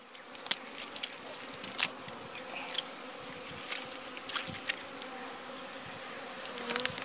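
Honeybees in an opened hive hum in a steady, quiet drone, with individual bees buzzing close past in brief louder swells and a few soft knocks from the hive frames.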